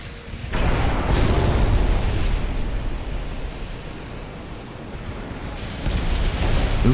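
A torpedo detonates against a warship in Ultimate Admiral: Dreadnoughts as a deep, heavy roar that holds for several seconds, like surging water or a long explosion, loud and broad, with a fresh swell near the end.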